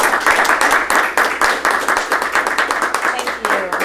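A small club audience at a Toastmasters meeting gives a round of applause, many hands clapping steadily and close by for several seconds with a light undertone of voices.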